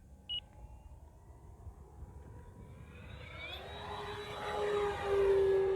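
An E-flite P-51 1.5 m RC model airplane flies past with a steady motor whine that grows louder and rises as it closes in, ending near and loud; a short beep sounds near the start.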